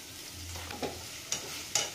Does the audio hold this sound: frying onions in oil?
yes